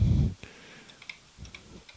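Keys being pressed on a BBC Micro computer keyboard during fault testing after ROMs were removed, a loud low thump at the start followed by a few faint, scattered clicks.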